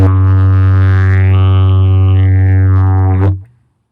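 A yidaki, or didgeridoo, drones loud and close in one continuous buzzing tone with a shifting, wavering upper timbre, then cuts off sharply after about three seconds.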